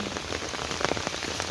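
Rain falling steadily on a surface outdoors, a dense continuous patter with scattered louder drops, heard alone with no voices.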